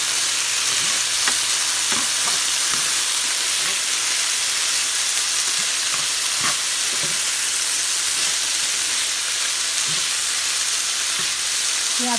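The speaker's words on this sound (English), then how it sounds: "So I am going to throw this tortilla in this hot skillet right here and heat it up while this continues to cook." Onions and peppers sizzling loudly in a hot skillet while a tortilla heats alongside, a steady dense crackling hiss with occasional sharper pops and light scraping.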